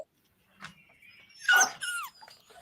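A dog whimpers close by, giving a faint whine and then a louder burst of high, wavering yelps and whines against a quiet background.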